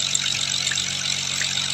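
A car engine hums steadily while driving in a Roblox game, a continuous, fairly loud synthetic drone with no pauses over a short stretch.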